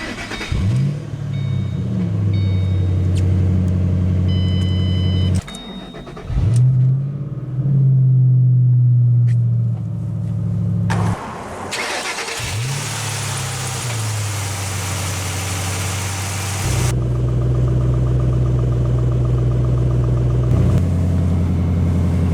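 A 2006 Ford Mustang GT V8 engine idles with a deep, burbling exhaust rumble, then revs up several times in loud bursts before settling back to a throaty idle.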